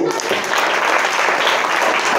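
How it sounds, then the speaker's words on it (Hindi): A group claps hands in dense, continuous applause at a training camp class, loud and close, steady throughout with a murmur of voices underneath. "अब बजाओ ताली।"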